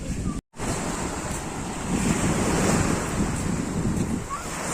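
Sea waves washing onto a beach beside a resort with a swimming pool, a steady broadband rush of surf mixed with wind buffeting the microphone, continuous and fairly loud after a brief dropout near the start.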